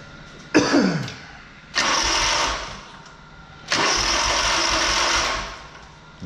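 Small engine cranked three times in a row, each attempt a loud roaring burst lasting about a second or more with short gaps of quiet between, struggling to catch and needing the choke right after being shut off.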